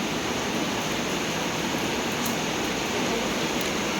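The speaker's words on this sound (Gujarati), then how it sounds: "આજે વરસાદ આટલો આવ્યો છે" Steady heavy rainfall hisses continuously, a broad even wash of falling water with faint scattered drop ticks, moderately loud and without any talking.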